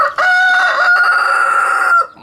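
A rooster crows once, loud and close, a single sustained call lasting nearly two seconds before cutting off.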